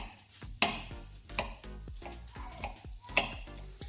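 A knife chops ingredients for mussel tomato soup on a cutting board, giving sharp, close, irregular knocks, about eight in a loose rhythm with brief pauses between.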